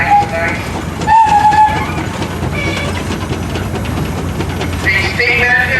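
A twin-engine steam traction engine, completed in 1997, chuffs and hisses nearby amid loud mechanical clatter, with brief squeals and whistle-like tones over the rumble, during a steam and tractor parade.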